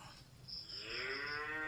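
A cow gives one long, low moo that rises and swells over nearly two seconds, fairly close and clear, at a rural home where grass is fed to the cattle; no talking.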